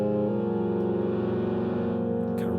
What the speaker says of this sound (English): this soft synth is really kind of like cranky sounding